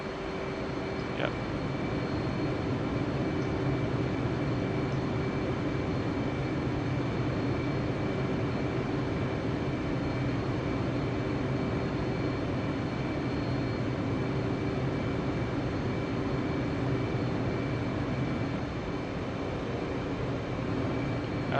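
Steady, loud jet engine drone from an F/A-18C Hornet on a landing approach in the DCS World flight simulator, a continuous even roar with a constant tonal hum and no talk.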